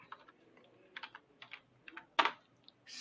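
Typing C code on a computer keyboard: scattered bursts of key clicks in short irregular clusters with pauses, ending in a sharper, louder keystroke.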